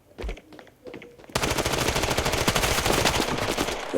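Rapid automatic MP7 fire in the Standoff 2 shooter game, a dense, loud burst of shots running continuously after a few brief clicks and handling sounds at the start.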